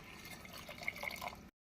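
Water poured into a pot while cooking tomato rice in a pressure cooker, a soft steady trickle with a few brighter splashes lasting about a second and a half, close and fairly quiet, then cutting off abruptly.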